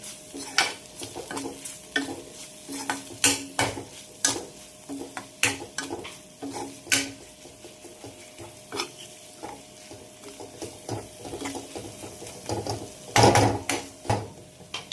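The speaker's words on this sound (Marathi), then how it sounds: "त्याचे असे छोटे छोटे तुकडे करून घेतलेत आणि पुन्हा टाकते ह्याच्यामध्ये आणि छान एकदा परतून घेते मी" Small kokum pieces are sautéed in a spicy dried prawn chutney in a pan, with repeated close scraping and clacking stirs in an irregular rhythm over a soft sizzle, and no talk.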